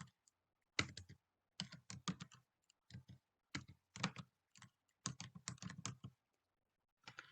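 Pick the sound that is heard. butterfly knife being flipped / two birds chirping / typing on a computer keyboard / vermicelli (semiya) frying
typing on a computer keyboard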